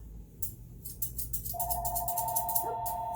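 A phone starts ringing partway through with a steady electronic trill, close and moderately loud, over low rumbling background noise and faint clicking in a grooming setting.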